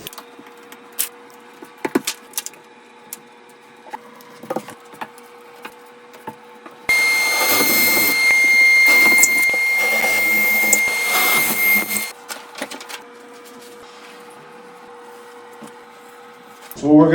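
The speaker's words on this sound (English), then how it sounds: "what we're going to use here is a dry cutting wheel, a vacuum setup" Dry cutting wheel slicing into a shower niche with a vacuum held underneath, a loud steady grinding whine lasting about five seconds after scattered handling taps, then a lower vacuum hum continuing once the cut stops.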